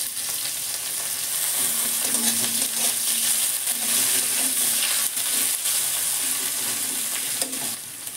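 Chopped onion sizzles in hot oil in a pan with green chili, five-spice seeds and asafoetida, a steady close frying hiss with occasional stirring clinks and scrapes, no voices.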